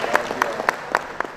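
Audience clapping at an Indonesian public gathering with officials present, a short run of evenly spaced, moderately loud claps under a murmur of voices.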